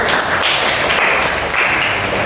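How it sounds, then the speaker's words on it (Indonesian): A classroom full of people clapping together in steady applause after a group presentation, dense and continuous throughout. "tepuk tangan dulu untuk kelompok 1"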